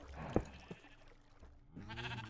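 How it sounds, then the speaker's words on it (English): Sheep bleating in the Minecraft video game, one short nasal bleat near the start followed by a second, longer harmonic bleat toward the end, fairly close with no talking. "you derpy freaking sheep"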